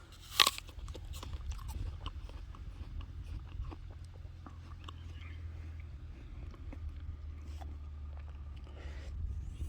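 Crunchy Gala apples being bitten into, with one sharp crisp bite near the start followed by steady close chewing crunches over a low background hum, in a home orchard setting.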